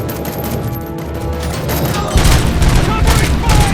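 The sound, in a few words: gunfire in RoboCop: Rogue City video game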